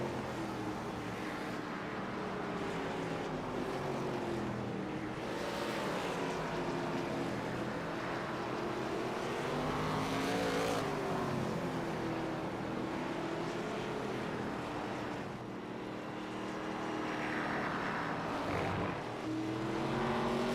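ARCA stock cars racing at Lime Rock, a road course with right-hand turns, roaring continuously at a steady distance, with engine pitch rising and falling as the cars pass through the corners.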